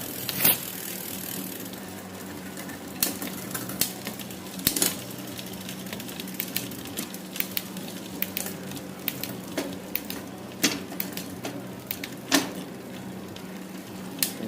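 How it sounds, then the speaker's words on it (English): A new bicycle chain clicks and ticks as it is run through the gears, with sharp shifting clacks at intervals over a quiet, steady whir. "the only thing I have to do now is run it through the gears"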